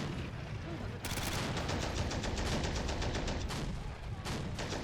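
Rapid bursts of gunfire from guns in the war strategy game Men of War: Assault Squad 2 crackle steadily in dense rattling volleys, a busy battle mix at moderate level.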